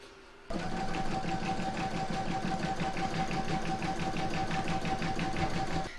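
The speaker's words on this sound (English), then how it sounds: "I'm now going to pop this into my machine and stitch round number 3 to secure my elastic" An embroidery machine runs steadily, stitching a round to secure elastic on an in-the-hoop towel topper, with a loud, even, rapid needle rhythm that continues without pause after a quiet start.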